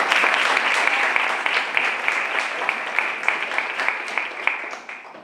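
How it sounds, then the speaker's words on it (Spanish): A small audience at an open-air poetry reading in Albolote applauds a reader, individual hand claps standing out distinctly as the clapping runs for several seconds and then tapers off. "Un aplauso para ella."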